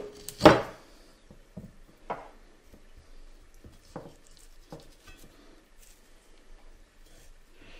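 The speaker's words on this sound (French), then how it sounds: "Il va maintenant falloir se débarrasser de tous les os qui peuvent rester." A knife working through wild boar meat on a board, removing leftover bones for a homemade pâté: one sharp knock, then soft intermittent cuts, scrapes and squishy taps, close and quiet with no talk.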